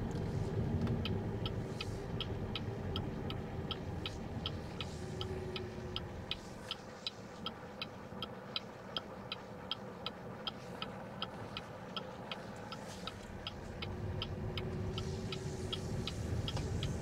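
BYD Dolphin or Toyota Corolla driving over a rough road, heard from inside as a steady low road rumble with a faint regular ticking, likely a turn signal, over the middle stretch; no talking.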